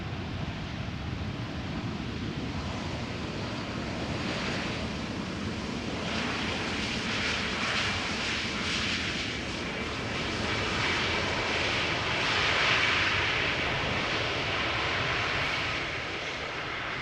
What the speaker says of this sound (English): let's have a look at this A320 Neo from Easyjet arriving from London Luton